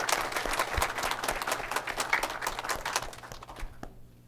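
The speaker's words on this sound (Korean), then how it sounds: "지난 30년 동안 수고해 주신 우리 박영민 시장님께 박수를 한번 보내주셨으면 감사하겠습니다" Applause from the audience at a Korean community quarterly meeting marking its 30th anniversary, honoring the mayor: steady dense clapping for about three and a half seconds, then tapering off quickly near the end.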